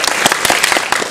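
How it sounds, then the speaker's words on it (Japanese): A live audience applauding at a magic competition semifinal, a dense, loud burst of many hands clapping together, filling the whole brief moment. "拍手を送ってください。"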